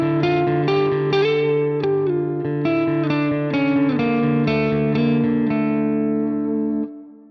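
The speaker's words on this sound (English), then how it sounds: "You have a reverb control for the clean channel here, and you could turn that up" A clean guitar channel on the Trivium Ampknob amp plugin with the reverb turned up plays a strummed, sustained chord progression, ringing with a reverb tail that fades away at the end.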